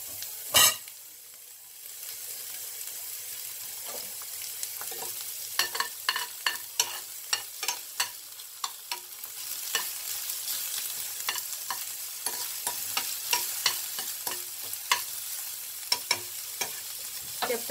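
Chopped garlic, ginger and onion frying in a pan for veg Manchurian produce a soft, constant sizzle with regular sharp ticks of a spatula stirring throughout, no speech.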